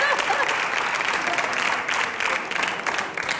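Sustained, dense clapping from a Spanish talk-show studio audience fills the space evenly, a busy wash of applause with a few voices barely audible underneath.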